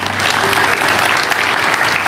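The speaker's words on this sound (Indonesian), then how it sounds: "Kalau dengar gini mesti tepuk tangan untuk Tuhan Yesus" A church congregation claps during a sermon, a loud, dense burst of many hands that holds steady throughout, with a faint tonal hum from the hall underneath and no voices on top.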